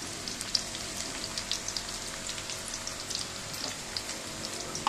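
Chopped onions and a bay leaf frying in oil for a country chicken curry: a soft, continuous crackling sizzle with scattered small pops, steady and fairly quiet, no speech.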